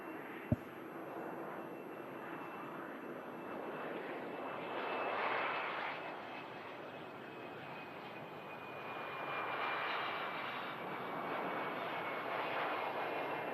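Jet airliner landing at Manchester Airport with a big flare, a moderately distant engine rumble that swells and eases in two broad waves, with a brief sharp click near the start.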